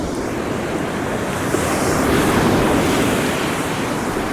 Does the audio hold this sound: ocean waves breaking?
yes